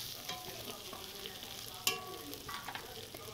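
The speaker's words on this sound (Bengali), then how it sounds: "আলুগুলিকে কিছুক্ষণ সময় নিয়ে মশলার সাথে মিশিয়ে ভাজা ভাজা করে" Potatoes stir-fried with spices make a faint, close sizzle with soft scraping as they are turned. One sharp clank of a utensil against the pan stands out midway.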